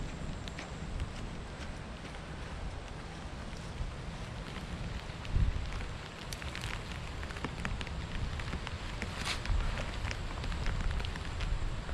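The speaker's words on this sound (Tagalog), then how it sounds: "Talaga maulan." Steady rain falls on a farm field during a peanut and sweet potato harvest, a soft continuous patter with scattered louder drops and no voices.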